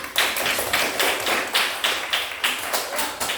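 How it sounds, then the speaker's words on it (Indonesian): A classroom group applauding in a steady rhythmic clap pattern, about eight evenly spaced sharp claps in a row, close and clear with no talk over them. "Tepuk tangan kelompok 2."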